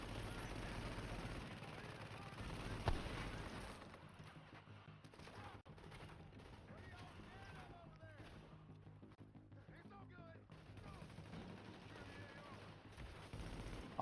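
Gunfire in The Division during an underground mission, steady shots and bursts hitting near the player throughout, with someone talking over much of it.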